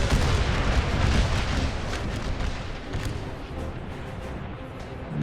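Artillery fire in an American Civil War battle game: continuous heavy rumbling booms from many cannons, dense and overlapping, loud and close throughout with distant crackle layered in.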